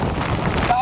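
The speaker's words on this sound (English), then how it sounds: "where the winds are very gusty right now and only going to get worse, Tevin." Gusty hurricane wind from Hurricane Delta in Lake Charles, Louisiana, roars loudly and continuously against the microphone in a dense, buffeting rush.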